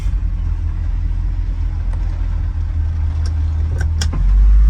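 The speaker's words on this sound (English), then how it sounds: "Car's idling at 900 RPM." A 1968 Shelby GT350 engine idles in drive at 900 RPM with a low, steady rumble, a few faint clicks and jingles over it, and the rumble swells louder at the very end.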